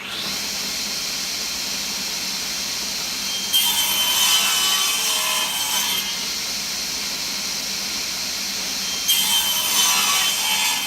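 A table saw cuts through wood for a small soap dish, a steady hiss and whir swelling into two louder, rougher cutting passes that each run a couple of seconds.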